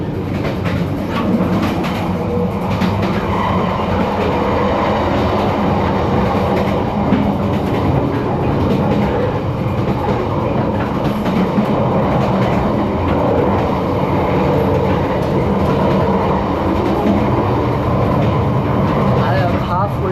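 Passenger train ride in Vietnam heard from inside the carriage: a loud, constant rumble and rattle of wheels on track, with a rhythmic clatter throughout.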